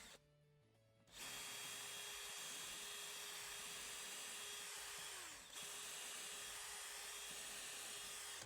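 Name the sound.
power drill pre-drilling a wooden deck board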